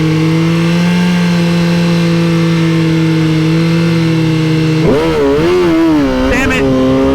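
A 2021 sport bike, a GSX-R1000R or ZX-10R, holds a steady high-rpm idle near 5,000 RPM at a drag strip, then launches into a loud rising surge of engine revs in the final seconds.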